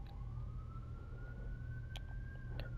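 A police siren from a DC Universe Online game session, a single rising wail that climbs slowly and holds steady over a low hum and faint game noise, with brief clicks near the end.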